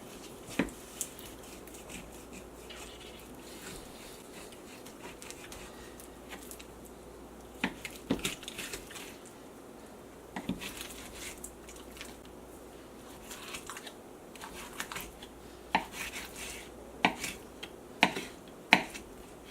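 A knife cuts along the bone of a pork butt in quiet, wet squishing strokes punctuated by small sharp clicks and taps, close and fairly soft, with no talk.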